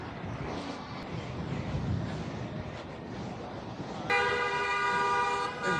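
A sustained car horn blares in busy New York City rush-hour traffic, starting partway through over a constant rumble of street noise and wind buffeting.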